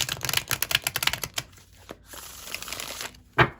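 Tarot cards being shuffled up close: a quick run of crisp riffling flicks and slaps, then a quieter stretch of soft sliding, ending with one sharp final snap of the deck.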